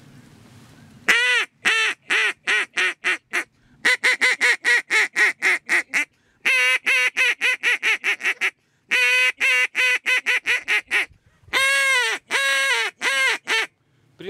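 Rapid series of loud, nasal quacks from a DKC duck call, delivered in rhythmic bursts of short calls separated by brief pauses, close and alone with no talking.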